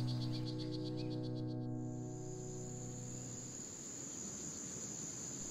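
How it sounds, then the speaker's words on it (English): Red poison frogs, Oophaga pumilio, calling on Bastimentos Island, with rapid repeated chirping trills over a steady high insect drone in a quiet outdoor chorus. "these frogs' chirps have been the soundtrack for the island"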